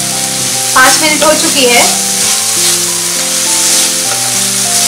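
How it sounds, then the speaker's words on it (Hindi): Green peas roasting in a pan for a spicy peas dish, a steady close sizzle with stirring scrapes running throughout, while someone talks over it in Hindi. "और इसे 4 से 5 मिनट तक भुनेंगे, बीच बीच में हिलाते रहेंगे।"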